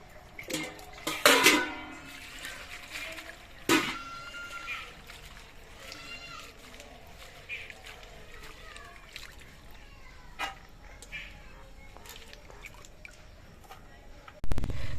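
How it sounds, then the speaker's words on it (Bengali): Radish stalks being washed by hand in water, with splashing and sloshing bursts, a loud splash early on and intermittent dripping and clinks of a container, a voice talking over parts of it. "এবার ডাটাগুলো জল দিয়ে ভালো করে ধুয়ে পরিষ্কার করে নিতে হবে"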